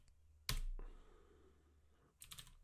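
Computer keyboard used while writing Java test code for Selenium and Cucumber: one sharp key clack followed by a short decaying rattle, then a quick burst of several keystrokes near the end, close and quiet, with no talk.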